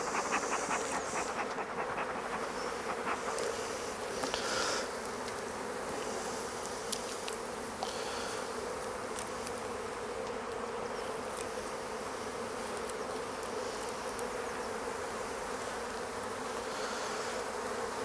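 Honey bees hum continuously around an open beehive during an inspection, a dense, steady buzzing swarm close by with occasional louder passes of individual bees, heard without talking.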